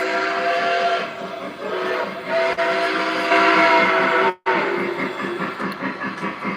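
A model train led by locomotive 765 runs along the track with a loud, steady rolling hum and rhythmic clatter, briefly broken by a short dropout; no talking.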